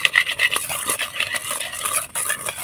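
Sugar and white oil are beaten together with a hand whisk for a palm fruit cake batter, giving a fast rhythmic swishing and scraping against the bowl, close and steady.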